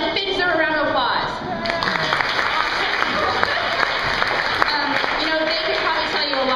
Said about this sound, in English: I think deserve a round of applause.